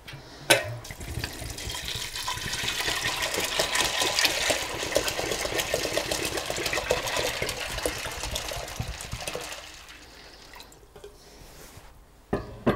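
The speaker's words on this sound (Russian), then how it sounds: "Заливаем водой." Water pours from a tap over dried beans in a pot, a steady splashing rush lasting about nine seconds before tapering into lighter trickles and a couple of clanks.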